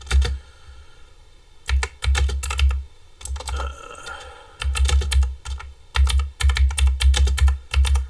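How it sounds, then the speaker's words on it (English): A clicky computer keyboard is typed on in quick bursts of sharp, loud keystrokes separated by short pauses, close to the microphone with no talking. "Clicky keyboard is clicky."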